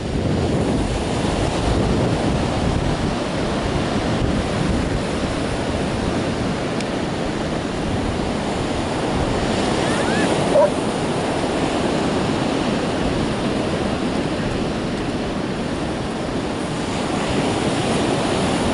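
Ocean surf at Myrtle Beach, South Carolina, heard as a loud, continuous wash of breaking waves with some wind rumble against the microphone, steady throughout with no talking.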